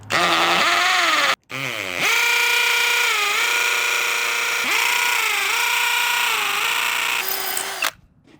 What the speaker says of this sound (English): So let's get these holes drilled.